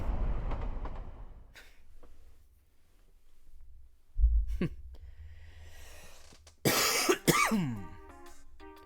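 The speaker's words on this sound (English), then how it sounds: "Luckily, my cough is going away, slowly but surely." A person with a lingering cough coughs and clears the throat a few times, loud and close, separated by quieter gaps, with faint background sounds.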